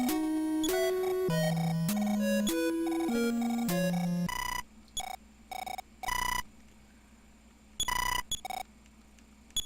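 Chiptune telephone ringing from the NES-era game Earthbound Beginnings: a stepped melodic ring tone for several seconds, then short repeated electronic ring bursts with gaps between them.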